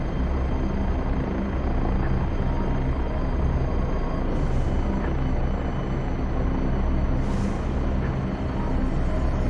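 A Kiowa helicopter roars steadily in a flight simulation game, its dense rotor and engine drone loud and unbroken, cruising fast at low altitude.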